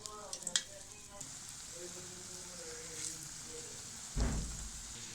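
Jackfruit seed chops sizzle softly in hot oil in a kadai, a quiet, steady frying crackle with a few sharper pops and a brief louder hiss near the end.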